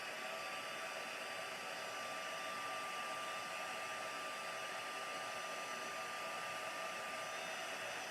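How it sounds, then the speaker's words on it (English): A handheld heat tool blows steadily while heat-setting embossing powder on a handmade card, giving a constant, even, fan-like whir with no breaks, fairly faint and close. "And then I'll heat set that with my heat tool."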